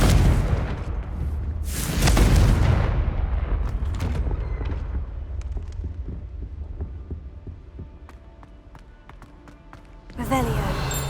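A Confringo blasting curse goes off in Hogwarts Legacy with a loud burst and deep rumbling boom, then fades into a scatter of lighter impacts and cracks before a second blast near the end.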